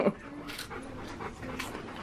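A dog pants in quick, rhythmic bursts close by indoors, soft but steady, with faint voices in the background.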